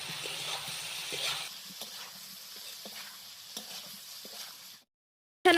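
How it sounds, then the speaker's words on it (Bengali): Fried soybean chunks being stir-fried with spiced potatoes, a steady close sizzle with repeated light scrapes and taps of a spatula in the pan, ending abruptly in silence. "ভেজে রাখা সয়াবিনটা এবার আমি এই কষা আলুর মধ্যে দিয়ে দেবো দিয়ে এবার ভালো করে এটা নেড়ে কষিয়ে নিতে হবে"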